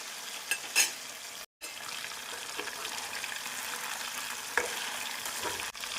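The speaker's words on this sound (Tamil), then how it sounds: "நாம் மீடியம் ஃப்ளேமில் வைத்து பிரான்ஸை மொறுமொறுப்பாக வரும் வரை வேக வைத்து எடுத்துவிடலாம்" Prawns fry in oil over a medium flame, a steady soft sizzle with occasional stirring scrapes and a brief dropout, fairly quiet and without voices.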